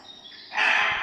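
A pheasant calls at an old castle grounds, a single harsh, rasping squawk rising out of faint background noise, fairly close and brief.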